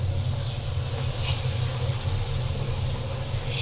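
Papad frying in hot oil: a steady, loud sizzling hiss over a low hum that continues without a break, with no speech.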